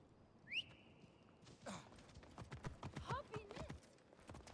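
Horse hooves in the video game Assassin's Creed Origins: a brief whinny-like whistle, then a steady run of clip-clopping hoofbeats that picks up pace and stays moderately close.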